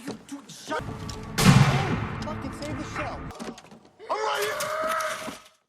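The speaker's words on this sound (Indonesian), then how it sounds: "ia menembakkan senjatanya ke arah hutan secara membabi buta." Gun fired blindly into a forest in a film scene: a loud burst of shots and impacts, then further rattling, under a narrator's voice speaking throughout.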